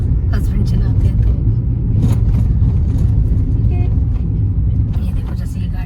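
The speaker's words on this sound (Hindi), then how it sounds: "ये देखो जैसे ये गाड़ी आई ना टर्न पर" A car rumbles steadily while driving a mountain road turn near Chail, Himachal Pradesh, its engine a close, low drone with a few brief rattles. Someone talks over the noise.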